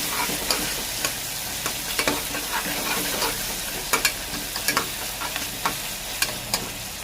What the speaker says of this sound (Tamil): தக்காளி எடுத்து வச்சுட்டு கொஞ்சம் நேரம் வதக்கி விடுங்க